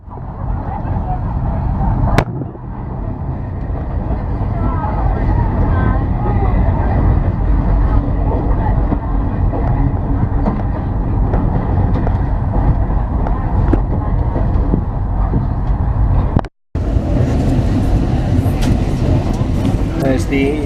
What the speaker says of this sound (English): we're just enjoying the train ride